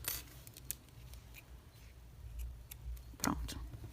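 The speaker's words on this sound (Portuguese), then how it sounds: "Já vou cortar." Scissors snip through yarn while finishing an amigurumi crochet grape doll, a few sharp close clicks, the clearest near the end, over quiet room noise.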